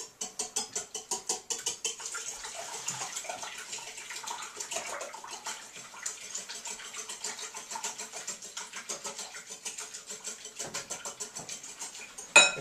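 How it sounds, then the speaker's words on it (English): A whisk or fork whisking sauce for chicken piccata in a bowl, giving a quick steady patter of light rhythmic taps and scrapes close by that continues for several seconds. "And then whisk it up if you have a whisk"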